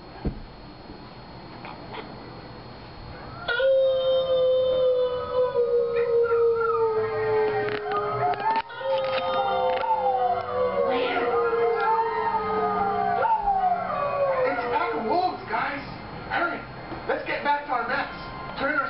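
Several wolves howl together in a long, rising and falling chorus, their overlapping wails layered and sustained for most of the stretch after a quieter opening.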